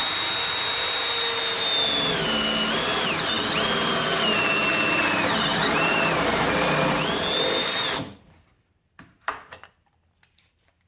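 A Milwaukee M12 Gen 2 FUEL hammer drill spins a 2.5-inch hole saw through softwood, a loud steady whine with wavering pitch dips as the bit loads, running about eight seconds before cutting off into a few faint clicks and handling noises.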